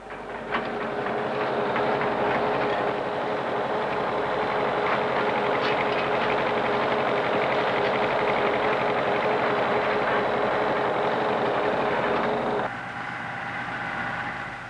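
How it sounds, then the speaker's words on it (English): Concrete paving train machines laying a road, a steady loud mechanical rumble and drone that runs continuously before dropping lower near the end, with no voices. "The paving train produces a finished concrete road by a series of machines working one after the other."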